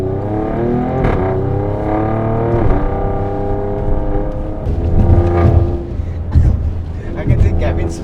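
An Alfa Romeo Stelvio Quadrifoglio SUV driven hard, its engine droning and climbing in pitch through the gears, loud and close from inside the cabin, with voices talking over it.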